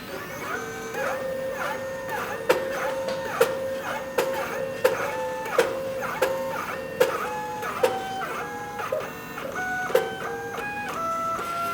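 A MakiBox A6 3D printer runs filament, its stepper motors singing in stepped, shifting tones while sharp pops and clicks punctuate the steady whir at fairly regular intervals, close and alone without talk.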